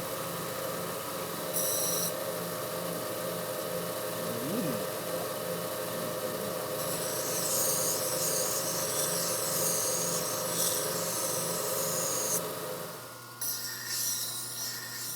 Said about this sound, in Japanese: 180番程度の砥石で研ぐ。